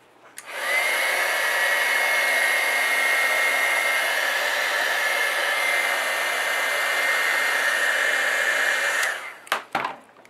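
A heat tool blows hot air onto a paper craft piece, a loud steady whooshing hiss with a faint whine that runs for about eight seconds before switching off with a few clicks.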